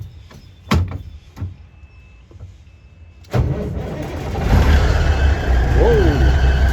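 Peterbilt 362 cabover truck engine starting: a few knocks and clunks, then the starter catches and the diesel fires into a loud, rough idle that settles into a steady rumble, with a brief voice.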